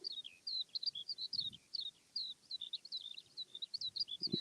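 Repeated high chirping calls from a bird outdoors on a countryside walk, quick bursts in an irregular rhythm, faint and somewhat distant over quiet background, with a couple of soft low rustles.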